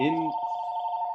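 A telephone rings with a bright, sustained electronic trill that carries on after a brief voice at the start.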